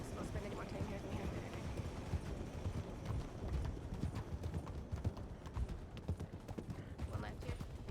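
Horse hooves clip-clop steadily in a video game, a fast, continuous rhythm of clattering hoofbeats at moderate volume with rumbling ambience underneath.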